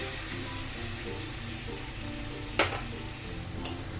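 Tomato paste fries with browned garlic in hot oil, giving a steady close sizzle broken by a couple of sharp scraping stirs.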